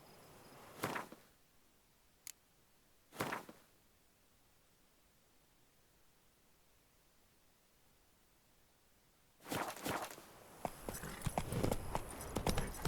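Hooves of Roach, the horse in The Witcher 3, sounding as a few isolated soft thuds early on, then a quicker cluster of clopping steps over a quiet ambient backdrop near the end.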